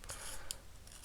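Scissors snip through paper for scrapbooking playing cards in two or three quick, crisp close-up cuts, with nothing else audible.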